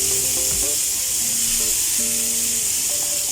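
Chicken fries in a pan over a low flame, giving off a loud, steady, broadband sizzle. Faint intermittent tones are heard over it, and no one speaks.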